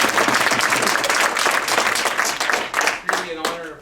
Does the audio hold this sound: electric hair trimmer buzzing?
no